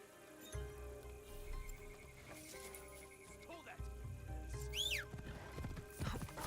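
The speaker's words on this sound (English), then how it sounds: "Can we ride our horse over there?" Horse whinnying and clip-clopping hooves in the video game Assassin's Creed Shadows, a neigh rising sharply near the middle amid steady game music and ambience, with a player talking over it.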